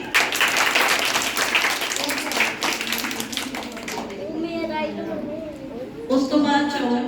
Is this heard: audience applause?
yes